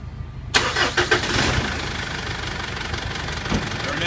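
An older Mitsubishi 3.2 diesel engine cranks and catches about half a second in, then settles into a loud, close, rattling idle with a steady clatter and no voices.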